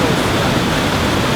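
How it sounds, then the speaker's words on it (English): Victoria Falls in Zambia roaring as a dense, steady wash of falling water, loud and close, unbroken from start to finish with no voices. "This is the Victoria Falls."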